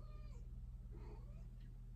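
A kitten gives a few thin, high meows over a low steady hum, faint and close, with no talk.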